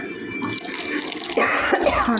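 Water poured from a container into a ground mixture of goat rib bones for a children's soup, a close splashing and trickling pour that thickens partway through, with faint kitchen clatter.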